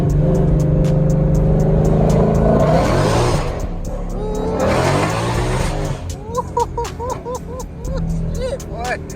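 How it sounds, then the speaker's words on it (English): A Ford Mustang GT500 does a street burnout with its rear tires spinning. A loud, roaring engine and tire squeal surge for about six seconds, then fade into excited talk with a few lingering chirps. "Blow the tires off for y'all real quick."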